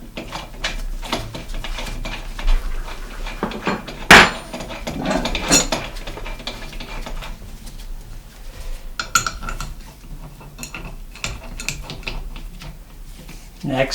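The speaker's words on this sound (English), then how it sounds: "screw that in as tight as you can and snug the tool up" Metallic ratcheting and clanking as a tool is snugged and tightened on an old bicycle's three-piece bottom bracket crank, with irregular clicks and one loud clank, under ongoing speech.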